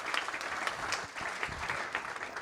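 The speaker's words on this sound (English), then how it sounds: "Let's give her another round of applause" Audience applause at a teachers' awards event in Kansas City, a steady round of many hands clapping at moderate distance, without voices.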